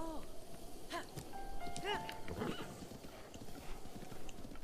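Horse hooves clip-clopping in a video game, a quick run of clops with short whinny-like tonal calls and music layered over a busy game background.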